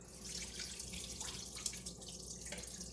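Water drains from salmon roe into a sink, a quiet steady trickling and splashing stream with faint dripping, no voices.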